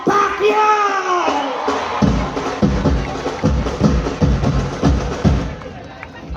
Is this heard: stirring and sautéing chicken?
no